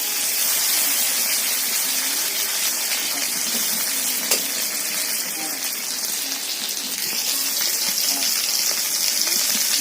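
Shrimp being fried again in a hot karai give off a loud, dense, continuous hiss that barely changes over the whole stretch, with one faint tap partway through.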